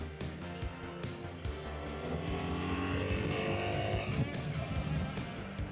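A BMW R1300GS motorcycle engine pulls and changes gears on its own in automatic riding mode, a loud, throbbing exhaust note rising and dipping with shifts under steady wind rush from the moving bike.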